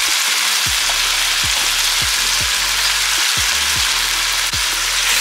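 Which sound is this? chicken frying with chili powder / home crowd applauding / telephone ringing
chicken frying with chili powder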